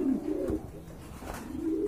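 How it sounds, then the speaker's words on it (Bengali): A large Runt pigeon cooing nearby, two low, throaty coos in quick succession, clear against quiet background with no talking. "এখানে কিন্তু আরেকটা কবুতর রয়েছে, অনেক বড় সাইজের কবুতর।"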